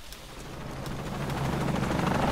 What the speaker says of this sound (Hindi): हेलीकॉप्टर आ गया